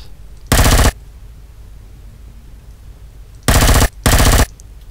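Gunfire from a gun in the video game Empyrion, three loud automatic bursts: one short burst early, then two more close together near the end, over a low steady background hum with no talk.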